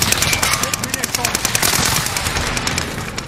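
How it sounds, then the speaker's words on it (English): Rapid automatic gunfire from Call of Duty: Warzone rattles continuously in bursts, with distant shots layered over a steady battle din and faint voices mixed in. "There's a guy shooting from here, I think."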